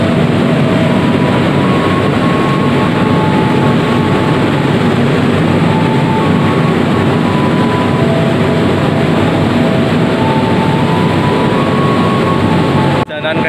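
Ranggajati executive passenger train arriving at Sragen station, heard from inside as a loud, steady rolling rumble with faint tonal whines throughout, ending abruptly.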